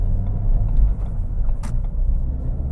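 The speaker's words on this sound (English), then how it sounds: "the induction sound is pretty nice." A Ford Fiesta ST runs in the cabin, its turbocharged engine giving a low, steady induction rumble with a brief hiss over the drone.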